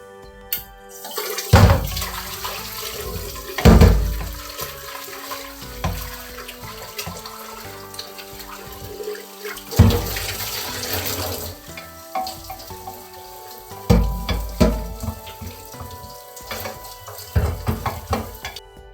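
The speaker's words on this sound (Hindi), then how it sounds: "फिर कुकर धो के चावल चढ़ा दिए।" Tap water runs into a sink as a pressure cooker is washed, giving a steady splashing stream broken by louder clanks and sloshes of the metal pot being handled close by.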